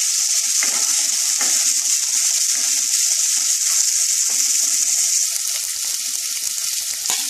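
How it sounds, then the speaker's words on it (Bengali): Pierced garlic cloves frying in a little oil, a close, continuous high sizzle with light bubbling crackle and a few soft stirring clicks near the end. "রসুন ফুটো করা রসুনটা দিলাম, অল্প করে একটু ভেজে নেব।"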